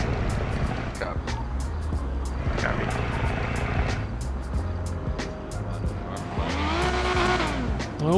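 A loud tuned car roars at a car meet in a roleplay video game, its engine revving hard with squealing tires and skidding throughout, steady and close with a few sharp clicks.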